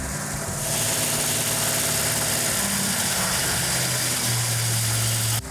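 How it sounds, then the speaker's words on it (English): A car engine idles steadily after its camshaft break-in, a loud, continuous mechanical rumble with a constant drone and a faint rising tone near the end, no voices. "I'm gonna back the idle down."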